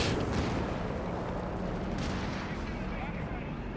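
A base artillery barrage landing in a Company of Heroes 3 4v4 match on Monte Cavo, dense rumbling booms and blasts packed together continuously, loud and heavy, with commentary voices underneath.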